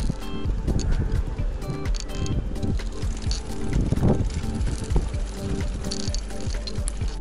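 A bicycle fitted with a homemade 220V, 150-watt lighting rig rolls along toward the eastern beaches on a cool, dry evening, with rattling, wind buffeting and road rumble close to the microphone, under intermittent talk.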